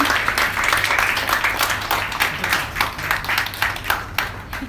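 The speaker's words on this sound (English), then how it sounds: "A round of applause, please." An audience applauds at a company launch event, a fairly loud burst of clapping with individual hand claps standing out in an uneven rhythm, tapering slightly toward the end.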